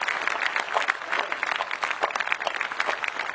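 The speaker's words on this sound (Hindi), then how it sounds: "तो फिर जोरदार तालियों का आकाश एक उठाइए आप" A seated audience at a Hindi kavi sammelan poetry recital claps steadily, a dense, continuous patter of many hands, moderately near, with no voices over it.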